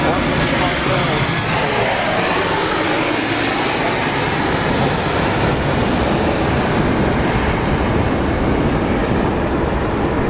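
An Emirates Airbus A380 jet airliner at Sydney International Airport gives a loud, continuous broadband engine roar that fills the whole clip, with a voice talking faintly beneath it.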